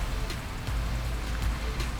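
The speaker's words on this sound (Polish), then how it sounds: "Także zaczęło padać, stało się najgorsze." Rain falls outdoors as a steady, dense patter with a low rumble underneath, constant and moderately loud across the whole stretch, with no speech.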